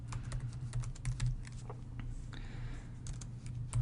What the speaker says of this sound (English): So I'm going to go ahead and type in StarCraft.